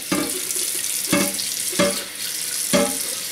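Tap water runs into a large stainless steel pan being rinsed in a sink, a steady close splashing rush with four louder clanks and surges as the pan is moved about.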